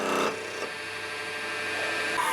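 Wood lathe turning a toothpick holder lid, a tool scraping the spinning wood with a steady, close rasping hiss and a brief louder cut at the start.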